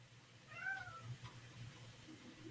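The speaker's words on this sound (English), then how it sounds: "You can totally hear my cat screaming in the background." A pet cat meows in a drawn-out, rising-and-falling cry, faint and somewhat distant, followed by a shorter second call over a low steady background hum.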